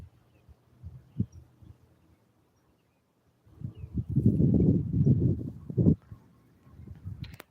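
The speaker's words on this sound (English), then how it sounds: "So let's show them the horses" Horses walking with hooves clip-clopping outdoors: a few sparse, quiet knocks at first, then a brief lull, then a louder, denser stretch of hoof steps and rustling movement nearby.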